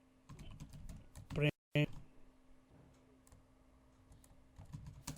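Keys clattering on a computer keyboard while code is typed, quick irregular clicks in bursts mixed with a person talking over them.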